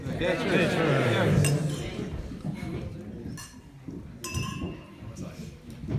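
Glasses clink in a toast at a catered event, several light chinks scattered under a crowd chattering and talking nearby.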